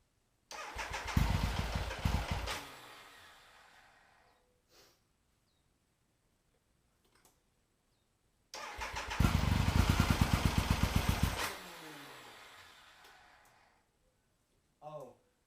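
A carbureted motorcycle that starts harder each day, rated at 110 horsepower, gives two loud, close cranking bursts of about three seconds each. Each burst fades into quiet, with a faint sputter between them.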